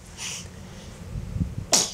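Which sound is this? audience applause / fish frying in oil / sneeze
sneeze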